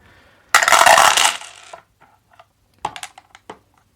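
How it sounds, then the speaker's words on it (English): Four dice are rolled for a board game, giving a loud clattering tumble that lasts about a second and fades, followed by a scatter of sharp small knocks as they settle. "we're going to have to roll 4 dice"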